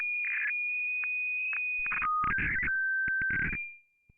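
A pure sine tone generated from sonified space data glides and steps between pitches, broken by brief bursts and pulses, loud and electronic before fading out at the end.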